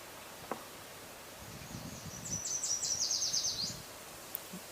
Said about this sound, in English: That, I believe, is a yellow warbler.